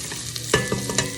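Shallots and garlic hitting hot oil in a pan, a loud sizzle bursting in with a few quick stirring scrapes close by over a steady frying hiss.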